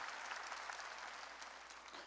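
A church congregation claps through a worship service, continuous dense clapping heard faintly and at a distance, with no pauses.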